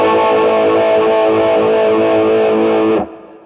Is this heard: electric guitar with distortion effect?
yes